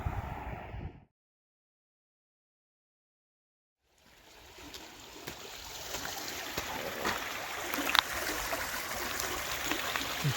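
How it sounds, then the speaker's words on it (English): Meltwater rushes through a meandering creek beside a trail, a continuous broad hiss and gurgle that cuts out briefly near the start, then returns and gradually swells louder. "the creek is flowing pretty good with all the meltwater"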